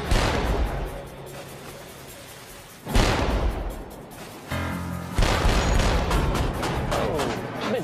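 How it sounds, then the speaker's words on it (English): A warship's deck gun fires at a floating target at sea, with three heavy booms spaced a few seconds apart, each followed by a long rumbling roar. "Oh, it's shooting."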